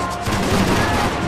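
Gunfire in Max Payne 3 rings out as a dense, continuous burst of loud shots filling the whole moment, with no pause between them.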